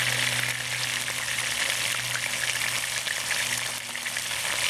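Cod fillets frying in a hot pan give a steady, dense sizzle that holds at an even level throughout, close by and with no voices over it.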